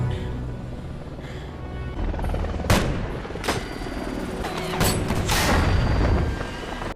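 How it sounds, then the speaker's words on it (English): Film gunfire from a helicopter: several sharp, loud shots and short bursts crack out at irregular intervals over a continuous low rumble. "it unleashes gunfire that kills Donnie"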